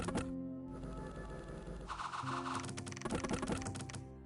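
Rapid, typewriter-like clatter of combat in the turn-based strategy game Conquest of Elysium 5, with kobolds fighting devils: dense, continuous tapping clicks over a low background hum.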